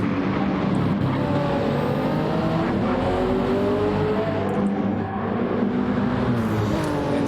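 Race cars lap the Nordschleife in Gran Turismo 7 during an endurance event, engines droning loud and continuous with rising and falling gear-change whines as several cars pass close together.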